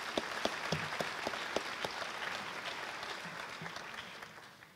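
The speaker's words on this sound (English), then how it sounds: "And how about another round of applause for these kids" Applause from a crowd at a high school athletic awards night, honoring senior student athletes, with a few sharp claps standing out at first, then a steady, fairly distant wash of clapping that slowly fades.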